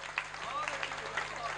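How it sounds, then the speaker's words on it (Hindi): An audience applauds together at a Hindi comic poetry gathering, a steady wash of many hands clapping with a few sharper claps and faint voices mixed in. "एक बार पूरा सदन दोनों हाथ उठाकर तालियां बजाकर मुझे आदेशित करें"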